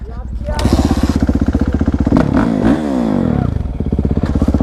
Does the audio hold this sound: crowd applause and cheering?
no